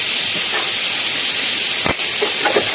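A loud, steady hiss of steam escaping from a kitchen pressure cooker fills the whole clip, constant and unbroken, with a faint clatter near the end.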